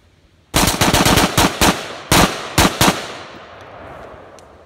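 A rifle fitted with a Franklin Armory BFS3 binary trigger and loaded with steel-cased ammo fires loud, rapid bursts close by, with a few short pauses between strings before an echo fades outdoors.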